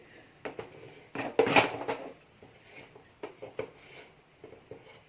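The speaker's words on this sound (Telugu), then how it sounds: "మొత్తం కూడా మనం గరిటెతోటి కలిపేసుకుందాం పిండి అంతా కూడా" A ladle stirs flour dough in a metal pot on the stove, producing irregular scraping and clinking knocks, close up, with a louder burst of scraping followed by lighter intermittent taps.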